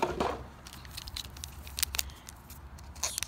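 Crinkly foil tearing with a few sharp rips and crackles as a Pokémon Fusion Strike trading card pack is pulled open, close up, with quiet pauses between.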